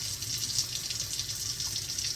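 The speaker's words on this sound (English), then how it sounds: "I am washing the rice" Jasmine rice is rinsed under hot running water in a kitchen, a steady splashing tap flow with soft sloshing throughout, close and continuous without speech.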